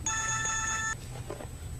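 A phone ringtone chimes for about a second, a bright electronic melody, then cuts off, leaving faint room noise.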